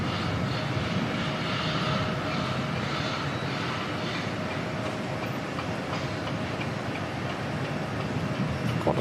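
An Air New Zealand airliner arriving from Wellington at Auckland Airport gives a steady, broad jet-engine roar that holds loud and unbroken throughout, with no talking.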